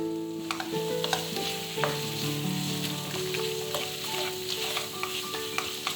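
Chili powder and chili pieces fry in hot oil with tempered potatoes, a close, steady sizzle with crackles and light stirring scrapes, no talking.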